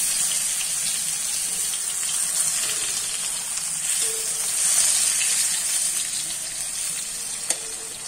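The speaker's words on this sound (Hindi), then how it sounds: "देखिए अब पकना स्टार्ट हो गया है, तो तेल थोड़ा ज़्यादा मात्रा में पड़ेगा तभी आलू को अच्छा से पकेगा।" Potato and eggplant pieces frying in plenty of oil in a pan over low heat for baingan aloo kalonji, a steady close sizzle with faint hiss and occasional small pops.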